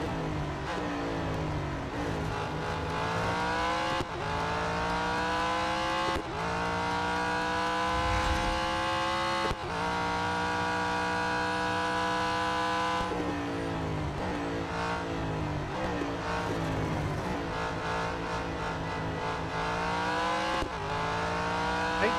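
Race car engine in the Real Racing 3 mobile racing game, revving loudly and continuously through repeated gear shifts, pitch climbing then dropping at each change, with the acceleration failing, alone without speech.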